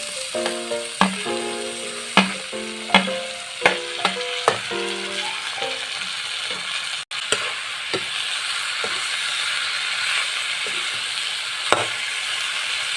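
Banana stem pieces fry in a pan with turmeric powder. A steady, even sizzle hisses throughout, and a few tonal clinks and brief pings ring out over it early on.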